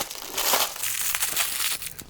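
Copper wool for cleaning a soldering iron tip is squeezed and handled up close, giving a soft, continuous crinkling and crunching with small bursts, with no talking.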